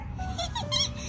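A rocking chair gives a short run of high, creaky squeaks over a steady background hum at a restaurant stop on an RV road trip through Nevada and Utah.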